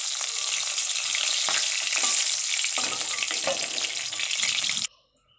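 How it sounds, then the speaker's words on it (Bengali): Black cumin seeds, bay leaf and dried red chillies crackle and sizzle in hot oil, with stirring scrapes and bursts of spitting, before the sound cuts off sharply near the end. "ওই তেলে এবার আমি কালো জিরে ফোড়ন দিয়ে দেব, তেজপাতা আর শুকনো লঙ্কা দিয়ে দেব।"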